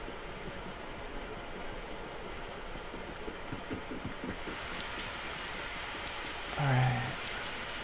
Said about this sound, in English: I'm getting lost in the rain here.